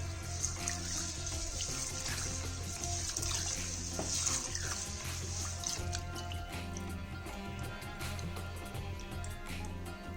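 Jowar millet grains being washed by hand in a bowl of water, with continuous close sloshing and swirling water sounds throughout, steady and fairly loud.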